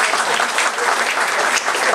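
Warm applause from an audience at a cornerstone-laying ceremony, dense and steady for the whole short stretch.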